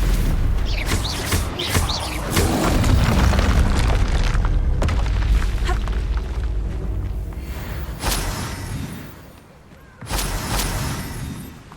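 Fiery Confringo spell blasts in the Hogwarts Legacy video game, deep rumbling booms layered with whooshes and sharp cracks, loud and continuous, with a brief lull before a final burst.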